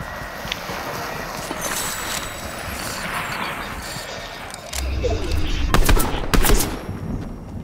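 Rapid bursts of Fortnite gunfire crackle over a busy background, growing louder and sharper toward the end, with a voice talking in Italian at times.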